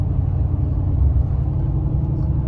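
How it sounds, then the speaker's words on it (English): A vehicle towing a Grand Design Imagine 2800BH RV trailer on Goodyear Endurance tires along a back road at about 45 mph, heard as a steady low road and engine rumble from inside the cab. "And we're just driving it down the road."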